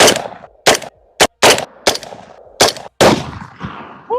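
Sharp, loud gunshots from an AR-15 or SIG P320 fired at a Thanksgiving turkey target on an outdoor shooting range, six or so cracks spaced irregularly with short echoing tails.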